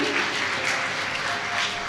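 A church gathering at Mount Carmel Church in Kakkon gives loud, sustained applause, many hands clapping in a dense roar that carries evenly from start to finish.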